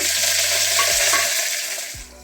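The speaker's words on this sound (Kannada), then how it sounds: "ಇದಕ್ಕೆ ಒಣಮೆಣಸಿನ್ಕಾಯಿ 2ರಿಂದ 3, ಸ್ವಲ್ಪ ಈರುಳ್ಳಿ ಮತ್ತು 1 ಈರುಳ್ಳಿ ಕಟ್ ಮಾಡ್ಕೊಂಡಿದ್ನಲ್ಲ ಅದು, ಮತ್ತು ಕರಿಬೇವಿನ ಸೊಪ್ಪು ತೊಳೆದು ಹಾಕ್ತಾಯಿದ್ದೀನಿ" Dried chillies, onion and curry leaves fry in hot oil with a dense, steady sizzle, while a few dull stirring knocks from a spoon on the pan stand out.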